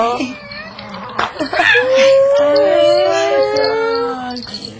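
A small chihuahua yips and then lets out a long, wavering howl, loud and close, with people talking in the background.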